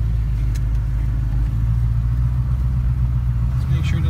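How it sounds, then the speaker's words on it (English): A 1968 Ford Mustang GT fitted with FAST EZ EFI fuel injection rumbles steadily on a test drive, its low engine drone and road noise continuous and close throughout, with no clear revving. "Here we are on the test drive."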